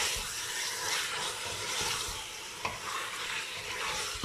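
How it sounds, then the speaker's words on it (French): Meat for a veal and quince tajine browns in a pan, giving a steady, fairly loud sizzle and frying hiss throughout, with a brief stirring knock partway through. "Là je fais revenir ma viande un peu."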